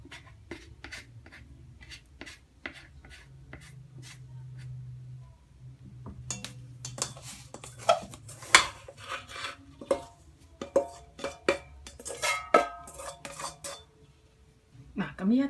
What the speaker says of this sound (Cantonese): 首先咧將啲水同埋啲粉撈勻佢啦